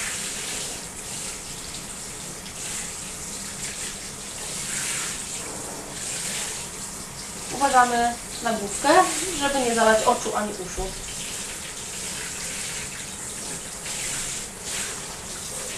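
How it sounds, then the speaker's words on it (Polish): Water is poured slowly over a chihuahua standing in a bathtub, a steady running and splashing wash that continues under a woman's calm spoken instructions. "i powoli polewamy go wodą."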